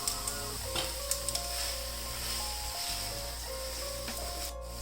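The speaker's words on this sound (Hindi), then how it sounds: "इसको अच्छी तरह मिक्स कर लेंगे।" Spiced street-style noodles being mixed in a pan, a continuous close scraping and rubbing of the utensil against the pan over a faint sizzle, with a few light knocks and no speech.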